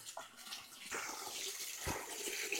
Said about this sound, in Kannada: ಇಲ್ಲಿ ನೀರು ಬರ್ತಾ ಇದೆ.